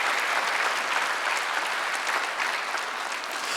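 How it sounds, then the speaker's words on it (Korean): A church congregation at a Sunday worship service claps in a dense, steady wash of applause that holds at an even loudness from start to finish, with no voices above it. "박수 좀 쳐봐요"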